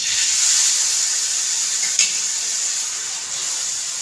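Pav bhaji sizzles in ghee in a pan, a loud, steady hiss of frying with a single brief clink of a utensil midway.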